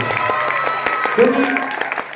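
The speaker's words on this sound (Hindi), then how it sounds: "जोरदार तालियां।" Applause from an audience at a mind-reading stage show in Delhi, a continuous patter of claps under a voice speaking over it, with some background music tones.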